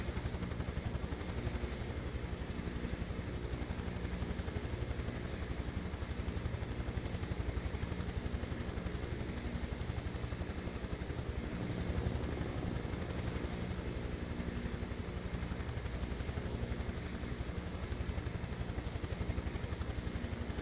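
A Huey helicopter flies over snowy Colorado aspens, its steady low rotor thump and engine drone continuous and loud throughout, with no voices.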